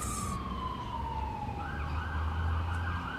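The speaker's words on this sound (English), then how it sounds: "Alright, the sirens went by." A wailing siren sweeps downward then holds a steady tone as a vehicle passes, over a constant rumble of road traffic.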